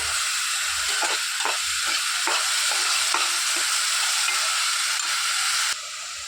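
Chopped green chillies and onion frying in a pan with bay leaf and cinnamon for a mutton paya bone soup: a loud, steady close-up sizzle with rhythmic stirring scrapes, easing off just before the end.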